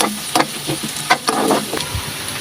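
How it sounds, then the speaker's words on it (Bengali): Chopped onions fry in hot oil with a loud, steady sizzle, crackling pops scattered throughout and faint stirring scrapes, close up and with no voices. "এখন আমি পেঁয়াজটা ভেজে নেব।"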